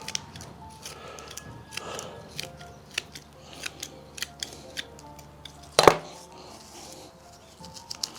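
Scissors snipping the roots of a Euphorbia avasmontana succulent, a run of small crisp clicks at irregular intervals with one louder snap, close up and without talk.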